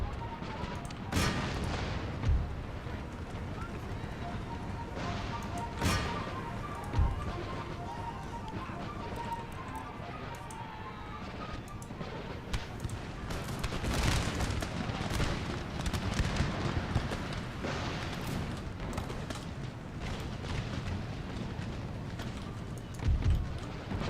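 Massed musket volleys from line infantry in Empire: Total War crack out repeatedly over a dense, continuous din of distant battle, with someone talking over the gunfire throughout.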